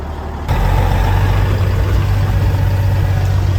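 A Kenworth W900 truck engine fitted with new breather stacks starts up and runs, a loud, steady, deep rumble that holds unbroken after the first half-second.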